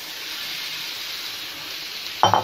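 Chicken pieces going into roasted masala in a hot pan, a steady broadband sizzle running throughout and ending in a brief louder burst of clatter and hiss near the end.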